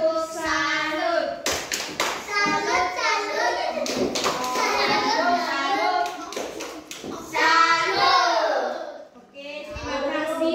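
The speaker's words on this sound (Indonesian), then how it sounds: "kita tepuk salut untuk kelompok 3." A classroom of children performs the rhythmic 'tepuk salut' clap for group 3 during an Indonesian language lesson, with crisp patterned hand claps under the kids' loud chanting voices.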